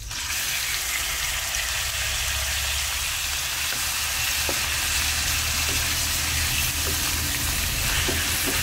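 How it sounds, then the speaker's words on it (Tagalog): Chicken sautéing in a pot with whole peppercorns as the base for Filipino tinola, a steady close sizzle holding through with faint stirring clicks and no talk. "Ginigisa ko para mas masarap, mas malinamnam."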